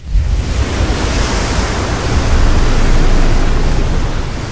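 Steady broadband roar of ocean surf, a dense continuous wash of crashing water that swells slightly louder midway, with no voices.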